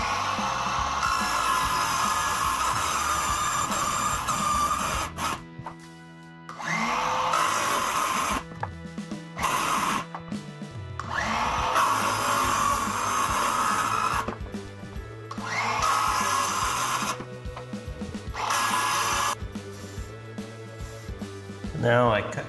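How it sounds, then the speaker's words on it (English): Circular saw cutting close to the corners of a board in bursts, loud whining cuts separated by brief pauses, with a voice talking over much of it. "Now I cut close to the corner, but not quite up with the circular saw"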